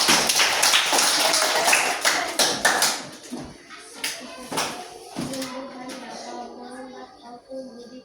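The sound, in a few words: applause for group 3 in a classroom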